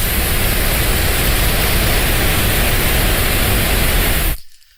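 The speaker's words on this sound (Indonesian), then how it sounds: "kalau ini saya setel pink noise akan keluar spektrum gelombang yang sama rata ya" Pink noise test signal played through an analog mixer, a loud, dense, constant hiss across the whole range that runs unbroken for about four seconds and then cuts off sharply.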